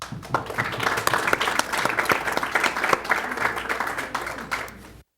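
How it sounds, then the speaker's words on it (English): Applause for award winners at a city council meeting: a crowd claps steadily for about five seconds, dense and fairly close, then stops. "So let's give the winners a big round of applause."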